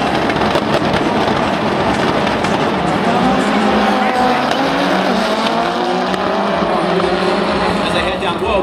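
Rallycross race cars at the 2012 Global RallyCross Championship at SEMA, Las Vegas, roar continuously in a loud, close wall of engine noise with rising and falling revs, under faint commentary.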